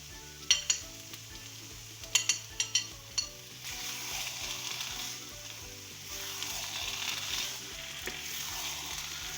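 Dry dates halwa with walnuts, cashews, raisins and almonds roasts in a pan. A few sharp clinks of the spoon against the pan come first, then a steady sizzle with soft stirring scrapes.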